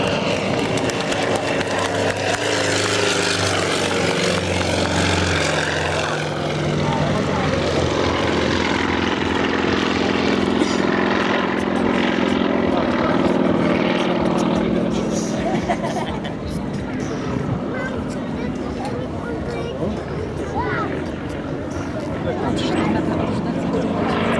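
A propeller aircraft flies sideways and performs aerobatics at a 2012 air show picnic in Gryzliny, a steady loud engine drone throughout under a crowd's babble and someone talking.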